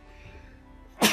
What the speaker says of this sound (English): Oh, I'm sneezing like every episode.